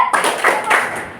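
Group clapping in a school classroom, a few claps in a loose rhythmic pattern, close and fairly loud, with faint voices mixed in.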